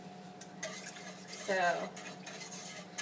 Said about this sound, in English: mixing that in. And you want to mix it constantly until there's no more lumps, and you want it to thicken some.